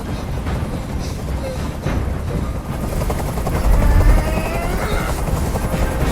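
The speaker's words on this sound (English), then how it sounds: "Tell that helicopter to get out of here." A loud video-game helicopter in Detroit: Become Human drones steadily with a thumping rotor as it hovers, close and continuous throughout, with a low rumble swelling briefly partway through.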